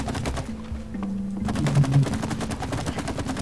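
Gunfire in the video game It Takes Two, rapid repeated shots popping steadily throughout under the game's background sound.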